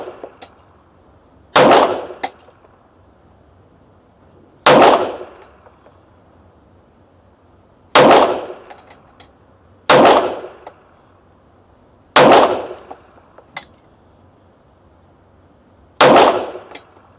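Six sharp, loud shots from a Sig Sauer P365 Rose .380 pistol at a target, evenly spaced a few seconds apart, each a crisp crack with a short ringing tail over quiet background.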